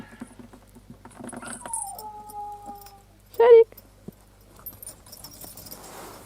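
A young dog lets out thin, high whines and a short squeaky yelp, close by, over quiet background rustling.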